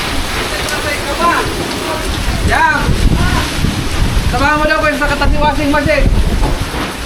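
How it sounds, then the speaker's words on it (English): Heavy rain from Typhoon Fung-wong in Bicol pours steadily and loudly on surfaces, a constant dense hiss with water rushing, while someone talks over it throughout. "The wind will die down a bit, but not the rain."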